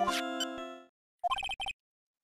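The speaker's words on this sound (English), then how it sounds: "What kind of ringtone is that?" A short electronic phone ringtone phrase from the video game Phoenix Wright: Ace Attorney, a sustained chime followed after a pause by a quick cluster of staccato beeps, with no talking.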